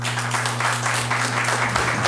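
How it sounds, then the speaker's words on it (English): Audience members clap in steady, dense applause at a harbor advisory public meeting, loud and continuous over a low electrical hum. "I'm going to further ask that we refrain from clapping or yelps or anything along that fashion."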